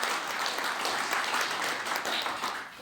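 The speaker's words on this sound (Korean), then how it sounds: "다시 한번 뜨거운 박수로" Audience applause at a Korean panel event, a dense, steady wash of many hands clapping at once that holds for about three seconds and fades slightly at the end.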